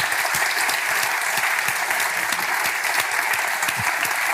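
Sustained, loud applause from a packed audience for Derren Brown at the Cambridge Union, a thick even clatter of many hands clapping without pause for several seconds.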